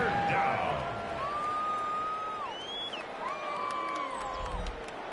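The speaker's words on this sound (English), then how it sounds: "This crowd into it now as we get to third down." A stadium crowd in an American football video game, Chiefs versus Broncos, builds before a third down: a steady, moderately distant roar with high whistles rising over it.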